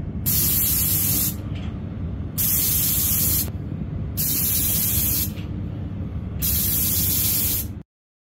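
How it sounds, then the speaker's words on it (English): Paint finish sprayed onto a wooden test piece in four even bursts of about a second and a half each, steady hissing with short pauses of background hum between them and no talking. "just going to do the same amount of spray on this piece"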